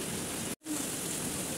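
Heavy rain pours onto the Ichamati river in a dense, even hiss, close and loud, broken only by a momentary cut partway through, with no thunder or voices.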